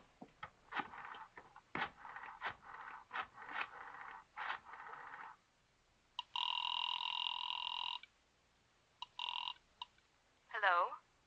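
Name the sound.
telephone ringing on the line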